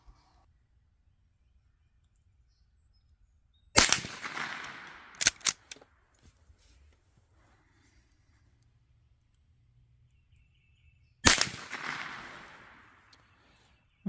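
Two sharp, loud cracks about seven seconds apart from a Rossi Gallery .22LR pump-action rifle firing higher-velocity rounds at spinner targets 25 yards out, each crack followed by a brief tail and a smaller pop in between.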